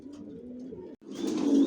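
Racing pigeons in a loft coo softly in a low murmuring call, then a louder rustle of birds and wings follows after a brief gap.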